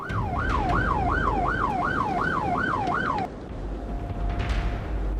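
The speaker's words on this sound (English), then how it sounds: "Troopers light him up, sirens wail" A loud wailing police siren sweeps up and down repeatedly over road noise during a high-speed chase, then cuts off, leaving traffic rumble and a faint steady tone.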